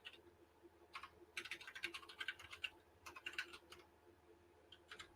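Quick bursts of typing on a computer keyboard, with rapid clustered keystrokes broken by short pauses. The clicking is soft and close, and no one speaks.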